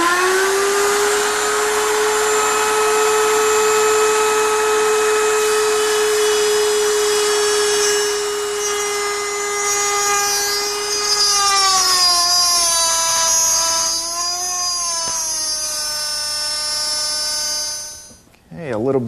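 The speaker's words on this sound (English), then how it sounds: "this is a small router bit, and trying to make a deep plunge cut in one shot is hard on the router and on the bit" A small router bit plunges deep into wood in a single pass, the motor giving a loud, steady high-pitched whine that sags and wavers under load near the end, then cuts off abruptly.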